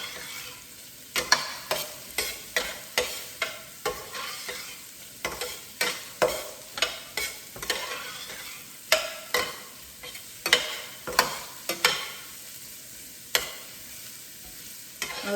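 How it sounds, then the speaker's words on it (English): Carrots for a Chinese egg roll filling stir-fry in hot oil with a constant sizzle, broken by regular, rhythmic scrapes and clacks of a spatula against the pan, close up and with no talk. "Then I am going to put the carrots first. To stir fry the carrots."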